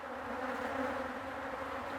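Honey bees buzz around a nucleus hive colony of about six frames, a dense continuous drone with layered hum tones, steady and close throughout, with no voices.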